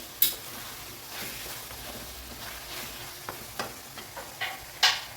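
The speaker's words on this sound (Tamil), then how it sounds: "நல்லா ஆயிலில் வதங்கட்டும்" About a quarter kilo of brinjal sautés in oil as a soft, low sizzle, broken by a few light clicks and spoon taps on the pan, heard close without speech.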